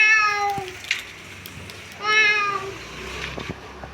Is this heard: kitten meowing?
yes